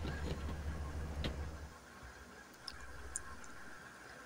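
Car engine and tyre noise during a drift in Grand Theft Auto San Andreas, a steady low rumble that drops after a sharp skid around the midpoint, with a few small ticks near the end.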